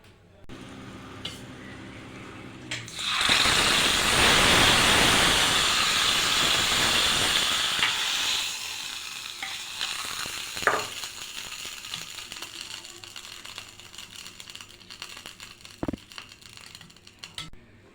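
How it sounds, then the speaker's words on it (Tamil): Mustard seeds and urad dal hit hot oil with a sudden loud crackling sizzle that fades over several seconds into quieter popping and a few sharp pops. "எண்ணெய் சூடாக இருந்தது கடுகும் உளுந்தும் போட்டு தாளிச்சிக்கலாம்"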